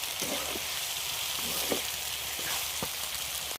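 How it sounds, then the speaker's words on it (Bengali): Chicken curry sizzles steadily in a hot pan, a continuous frying hiss with a few soft scraping stirs breaking through, close and fairly loud throughout. "অনেকক্ষণ ধরে কষতে হবে"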